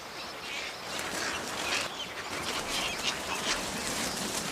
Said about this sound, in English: Hundreds or even thousands of egret couples work hard to build their nests. There is a constant chatter.